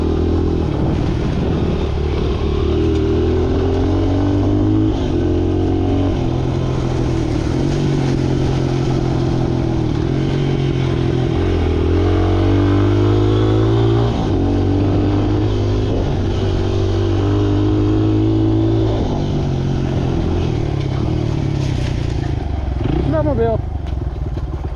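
A snowmobile engine drones loudly and steadily close by, its pitch rising and falling through several revs over the whole stretch, with a brief rattle near the end.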